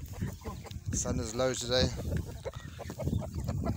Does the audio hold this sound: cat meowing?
no